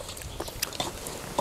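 Crunchy bites and chews of spicy raw squid salad with lime, close and crisp, several sharp crackles spread irregularly over a soft background hiss, with no talking.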